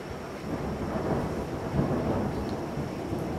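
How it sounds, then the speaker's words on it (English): Steady low rumble of thunder from an approaching thunderstorm, rolling continuously at a distance with a faint rain-like hiss and no voices. "the thunderstorm's coming"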